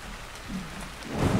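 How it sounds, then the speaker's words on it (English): Steady rainfall at night in ARK: Survival Evolved, a constant hiss of rain with a low rumble swelling near the end, no voices. "So, it is turning nighttime and it's raining."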